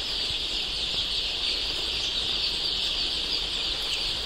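A brood of young native country chicken chicks chirps continuously, a dense, high, steady chorus close by with no talking.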